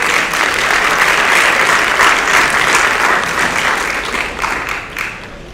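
A crowd in a high school auditorium at an athletic awards ceremony applauds loudly and steadily, full and close, before the clapping thins and fades toward the end.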